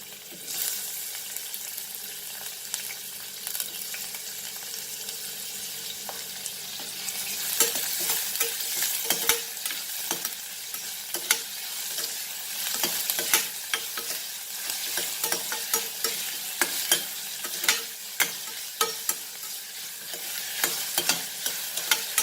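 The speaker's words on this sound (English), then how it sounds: "So first thing I will put this onion for frying." Steady sizzling of onion frying in a pan, with scattered crackles and pops growing busier over time, close by and with no talking.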